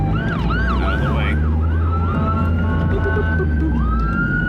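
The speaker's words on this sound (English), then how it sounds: "So I got a siren coming in" An emergency vehicle siren approaching along a freeway, wailing up and down clearly above a constant roar of traffic before settling into a long steady tone.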